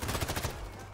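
Rapid bursts of video game gunfire crackle in quick succession over the short moment, then trail off into a steadier rumble of game noise.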